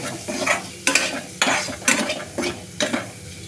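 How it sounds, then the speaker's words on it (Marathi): Turmeric-spiced masala being sautéed in a pan, with about half a dozen spaced scraping stirs over a steady close sizzle and no voices. "हळद टाकते आता मी परतून घेते"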